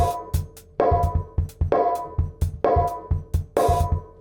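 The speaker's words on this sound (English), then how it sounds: "So I started by programming a break in here, which sounds like this." Programmed trip-hop drum break built from acoustic kit pieces in BFD3, with steady kick and snare hits and crisp cymbal accents repeating in a loose, punchy rhythm, dry and close with no voices.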